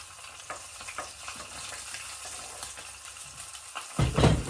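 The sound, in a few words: sautéing ginger and onions in a pan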